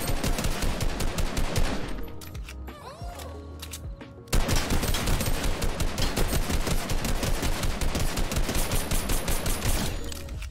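Rapid automatic gunfire from a Fortnite match as a llama is shot down, loud sustained bursts of dense cracking shots that pause briefly near the middle before resuming steadily to the end.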